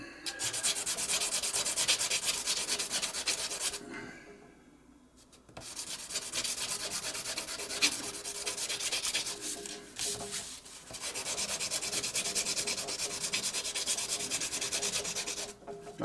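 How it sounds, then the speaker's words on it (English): Steady rasping strokes of 400-grit sandpaper on a butane lighter part, close and continuous, with a short pause near the middle before the rubbing resumes. "I'm using just a 400 sandpaper"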